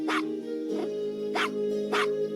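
Four evenly spaced small dog barks in a video game, yappy and bright, over a steady tonal background hum.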